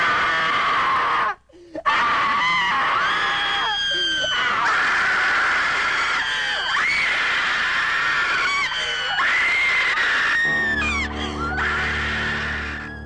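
Film audience screaming in a theater, loud sustained shrieks and wails from many voices overlapping continuously, rising and falling in waves.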